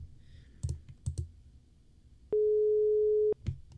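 A telephone line gives a single steady busy-signal tone lasting about a second, with a few soft clicks before and after it.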